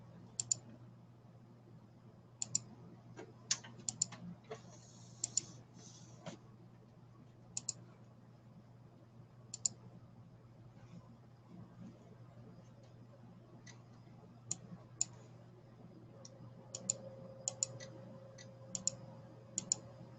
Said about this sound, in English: Clicking around to get the screen share.